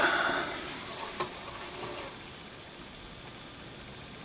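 Land O'Lakes butter, under half a stick, melting in a hot pan gives a steady, close sizzle with soft crackles, louder at first and settling lower.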